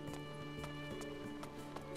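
Horse hooves galloping in the video game Attack on Titan 2, a rapid run of clip-clop beats over steady game music and ambience, fairly close and even in level, with no voices over it.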